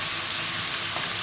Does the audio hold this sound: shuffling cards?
no